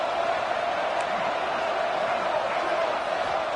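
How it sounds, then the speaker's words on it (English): Stadium crowd noise in the College Football 26 game at a Florida versus Miami matchup, a loud, dense, unbroken roar that holds steady from start to finish. "It's early, but this crowd is fired up. Listen to this noise here."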